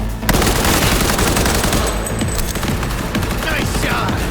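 Rapid automatic gunfire fills a shootout in a Cyberpunk-themed game film, loud and continuous with dense overlapping bursts, a booming low end and faint voices mixed underneath.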